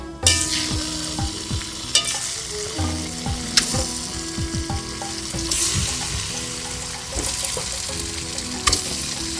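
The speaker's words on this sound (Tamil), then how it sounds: "ஒரு முட்டையை சேர்த்து வறுத்துக்கலாம்." Egg frying in a hot pan with masala for egg biryani, a steady sizzle broken by repeated spatula scrapes and stirring clatter, close and continuous with no talk.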